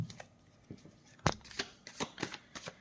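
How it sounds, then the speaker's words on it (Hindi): Tarot cards are shuffled by hand close up, giving a quick series of crisp riffling snaps and soft slides with no talking. "मैं कार्ड को शफल कर चुकी हूँ, लेकिन फिर भी एक बार शफल कर लेती हूँ।"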